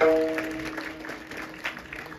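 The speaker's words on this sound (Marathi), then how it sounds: "एकदा टाळ्यांच्या गजरात दादांचं स्वागत झालं पाहिजे" An audience claps to welcome a guest at a Shiv Jayanti kirtan, a brief voice at the start giving way to a steady patter of moderate applause that carries on to the end.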